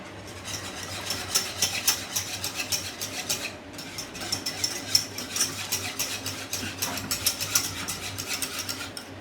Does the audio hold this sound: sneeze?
no